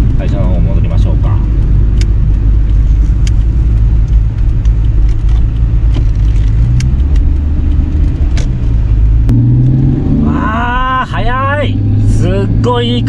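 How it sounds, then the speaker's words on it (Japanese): A Nissan Skyline GT-R BNR32 accelerates on the road with a loud, steady engine roar that climbs in pitch through the run. It is heard from inside the car, and people talk over it toward the end. "すごいいい加速ですね"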